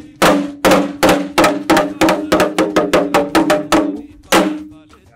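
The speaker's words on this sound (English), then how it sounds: "This one is the modern drum." A modern drum played at an Egun Sato gathering in Badagry, a fast series of loud, sharp strikes close up with a resonant boom, the hits speeding up before a final accented beat.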